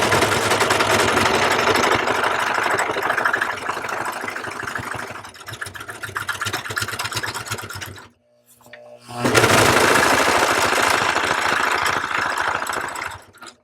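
Serger overlocker running steadily while trimming fabric edges for reusable unpaper towels, a loud continuous rapid mechanical whir with a brief stop partway through before resuming.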